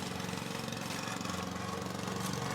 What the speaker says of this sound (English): People out there mowing their lawns and stuff.